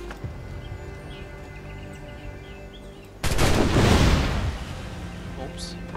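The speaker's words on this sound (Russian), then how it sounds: "Такой взрыв и не привлек никакого абсолютно внимания." An explosion in the video game Assassin's Creed 4 Black Flag bursts out suddenly as a loud, broad blast that rumbles for about a second, then drops back to quiet ambient game sound.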